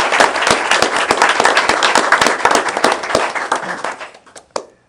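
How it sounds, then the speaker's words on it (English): A meeting audience applauds Alfred Tucker with sustained, dense clapping that stays loud, then thins out and fades to a few last claps near the end. "Let's give Alfred Tucker a round of applause."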